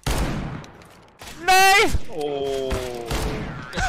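Gunfire in an online multiplayer video game: a short burst of game gunshots followed by ringing tonal effects, with players shouting and talking over it.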